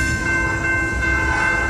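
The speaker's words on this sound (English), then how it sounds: "Bye, train." A train rumbles loudly past a level crossing near Zelley Park, New Jersey, with a steady rolling roar and sustained tonal whine.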